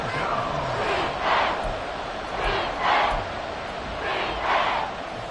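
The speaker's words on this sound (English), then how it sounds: "this crowd doing their best to make a lot of racket" Football stadium crowd roaring during a game, broad rushing cheers that surge in repeated swells over a constant din, with a commentator's voice faintly mixed beneath.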